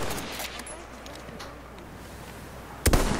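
Enemy gunfire from a hill in the video game Battlefield 1, heard as faint, distant scattered shots over a low battle background, ending in one sudden loud, close blast.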